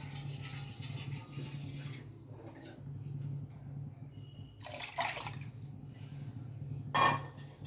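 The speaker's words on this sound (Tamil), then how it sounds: "இப்போ இதில் கொஞ்சமாக தண்ணி சேர்த்துக்கலாம்." Water is poured into a pan of kadalai paruppu urundai kulambu, a Tamil lentil-ball curry, with a few pouring and splashing bursts over a low steady background hum.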